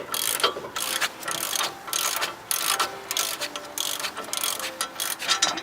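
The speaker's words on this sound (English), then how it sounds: "use your wrench with the 19mm socket for both top and bottom" Close, rapid ratchet clicking comes in repeated strokes as a wrench with a 19mm socket loosens brake caliper bolts on a Nissan Xterra, with no one speaking.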